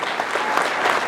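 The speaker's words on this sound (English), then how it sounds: "Please give a round of applause for the people responsible." Dense, even applause fills a historic theater, a full audience clapping steadily and loudly throughout with no pauses.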